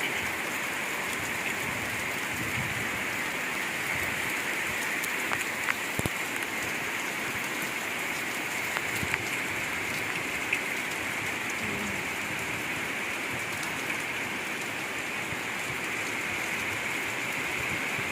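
Steady rain falls over a rural village garden, a dense continuous hiss of drops on surfaces that stays even and close throughout, with no voices.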